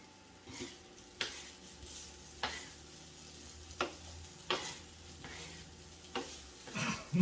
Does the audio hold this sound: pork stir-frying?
yes